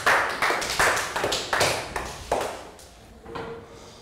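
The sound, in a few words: applause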